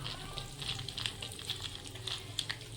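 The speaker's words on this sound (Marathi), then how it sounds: "मोहरी तडतडली की मग त्याच्यात जिरे घालायचे आहेत आणि हलवून घ्यायचं आहे. आता याच्यात आपण हे काजू आहेत हे घालायचे आहेत" Cashews fry in hot oil with crackling mustard seeds and cumin in a tempering for curd rice, a soft continuous sizzle with faint pops and a stirring scrape, no voices.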